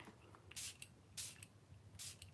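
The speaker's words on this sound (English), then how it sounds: "I'm going to get a little bit of this spray right here, okay? We're just going to kind of spray the face." Caudalie face mist sprayed onto a face, three short soft hissing spritzes spaced about half a second apart, close but quiet.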